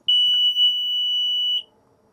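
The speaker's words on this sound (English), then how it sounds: "It's going to have that horn sound and then also switch over to red there, just so that you know everything's functioning properly." An RV Safe propane gas detector in a 2017 Winnebago sounds its test horn, a single loud, steady high-pitched tone lasting about a second and a half before cutting off.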